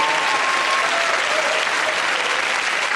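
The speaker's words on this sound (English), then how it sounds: "Give it that round of applause to Russell, Fred and Andy." Studio audience at a British TV comedy panel show breaks into steady, dense applause, loud and sustained throughout with no voices over it.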